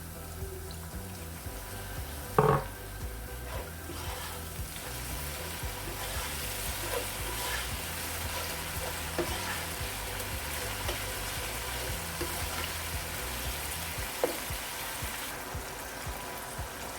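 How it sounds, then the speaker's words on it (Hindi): Soft, steady sizzling from a pan as a little water is added while cooking egg koftas, with faint trickling water and occasional light clinks, continuing quietly for the whole stretch. "अब इसके अंदर मैं पानी डाल दूंगी थोड़ा सा।"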